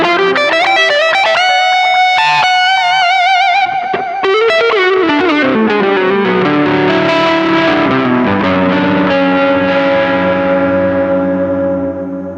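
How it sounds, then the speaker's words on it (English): Distorted electric guitar with a processed tone from a cabinet simulation, playing sustained chords and melodic notes, loud and continuous with no talking. "So here's the sound of the cabinet simulation."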